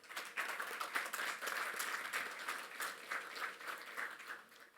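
Audience applause at the G20 Interfaith Forum in Pune, India, a steady wash of many hands clapping from a hall crowd, continuous and moderately loud for the whole stretch with no voices over it.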